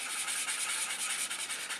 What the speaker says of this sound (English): Another trick you can always do is just go in little circles.